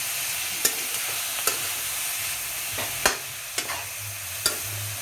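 Soy sauce hitting string beans and ground pork frying in a pan, a bright continuous sizzle punctuated by about five sharp scraping clacks of a utensil stirring, close and loud with no talking.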